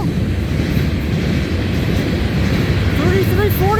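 A CN freight train rolls past near Ladysmith, Wisconsin, its distributed power locomotive mid-train. A loud, continuous low rumble and rattle of railcars fills the clip, with squealing wheel screeches rising near the end.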